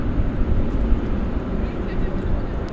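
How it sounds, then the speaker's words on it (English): An American Airlines Boeing 787-9 Dreamliner heavy jet at DFW Airport at night makes a dense, low engine rumble, steady and fairly loud, with a voice talking over it. "It's a Dreamliner Dash 9"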